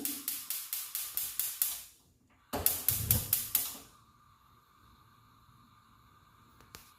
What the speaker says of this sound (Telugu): స్టవ్ వెలిగిస్తున్నాను